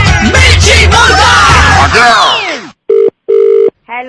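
A telephone on a Hindi radio prank-call show rings in short repeated electronic bursts with pauses between, loud and clear after a stretch of busy jingle sounds and voices.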